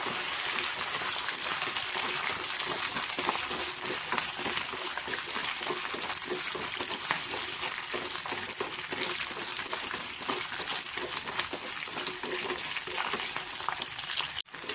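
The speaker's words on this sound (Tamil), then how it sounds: "வெங்காயமும் பூண்டும் பார்த்தீங்கன்னா இந்த அளவுக்கு வணக்கிக்கோங்க" Onion and garlic sauté in a pan with a steady, dense sizzle that stays even and close throughout. There is no talking, and a faint clink comes near the end.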